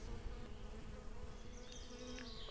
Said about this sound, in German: Eine hungrige Biene.